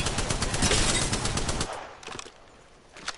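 Video game gunfire rattles out in a rapid automatic burst for over a second, then breaks into scattered, quieter single shots and short bursts.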